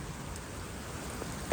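Rain falls steadily during a heavy downpour, a soft, even patter with a few sharper drips near the end, faint and continuous with no voices.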